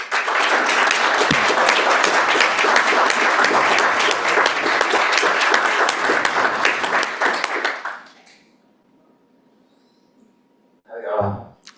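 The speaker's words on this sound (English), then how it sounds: "Please join me in giving a huge round of applause to Uga" An audience at a poetry tribute event bursts into loud, dense applause lasting about eight seconds before it stops abruptly, followed by near silence and then a brief voice at the microphone.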